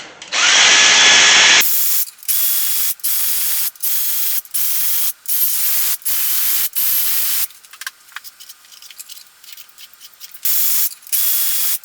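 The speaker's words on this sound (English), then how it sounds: "I'll just pull them off quickly with the electric ratchet." An electric ratchet spins out cylinder head bolts on a car engine with leaking valves: a loud high whine bursts in repeated short runs with brief pauses between, close up, then scrapes and clicks before two final bursts.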